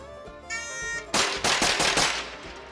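Gunfire cracks at an outdoor shooting range, with a first loud report followed by several rapid, booming shots in quick succession, close and forceful.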